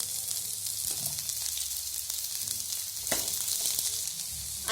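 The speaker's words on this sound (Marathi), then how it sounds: "ही फुलगोबी आणि ह्या हिरव्या मिरच्या छान तेलामध्ये होऊ द्यायच्या आहेत एकत्रित। यानंतर कांदा टाकून घ्यायचा आहे," Onion, cauliflower and green chillies frying in oil, a steady close sizzle with occasional stirring scrapes, no talking.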